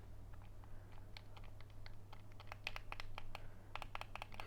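Light plastic clicking from a budget Nintendo Switch Lite console's buttons, pressed in quick irregular bursts close by over a faint low hum.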